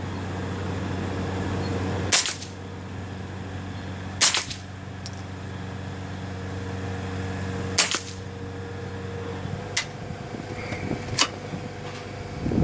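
Ruger 10/22 rifle shots striking an earthen berm at an outdoor range: five sharp, separate cracks spaced a couple of seconds apart over a steady hum of background noise.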